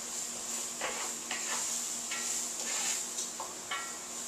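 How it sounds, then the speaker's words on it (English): Onions cooking down in a stew pot, a soft steady sizzle under light scraping and stirring strokes, faint and close with intermittent utensil scrapes. "We're just going to cook down these onions"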